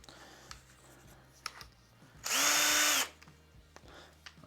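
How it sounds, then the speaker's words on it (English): A power drill bores holes into an electric guitar body in a single loud, steady whine of roughly a second that stands out against a quiet room. "Maybe I should start with just drilling the holes."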